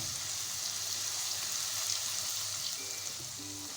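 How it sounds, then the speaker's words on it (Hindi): Ginger garlic paste frying with onions in a pan for a beetroot mutton curry, a continuous soft, even sizzle heard alone at moderate level. "कुछ सेकंड के लिए हम प्याज के साथ अदरक लहसुन को फ्राई करेंगे।"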